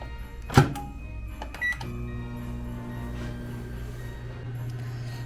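A couple of sharp clicks and a beep give way to a steady low electrical hum and drone as a microwave kiln starts a glass firing and runs.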